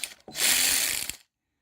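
A ratchet clicks in one short burst as T45 Torx bolts are loosened on an 2008 Mercury Mariner in a garage, close and crisp, with no talking.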